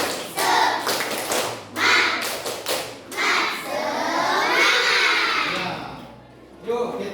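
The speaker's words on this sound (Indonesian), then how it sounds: "Coba tepuk semangat." Schoolchildren in a primary school classroom perform a rhythmic spirit clap, a run of group claps and slaps with a teacher's voice and children's chatter mixed in, loud and close.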